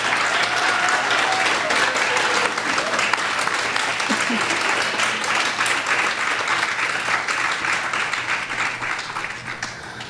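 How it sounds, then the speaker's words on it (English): Sustained audience applause fills a hall at the Samanvaya Samvada event, a dense, steady wash of many hands clapping at full strength for the whole stretch, tapering only slightly toward the end. "won't you please show them your appreciation with a resounding applause for their enlightening presentation"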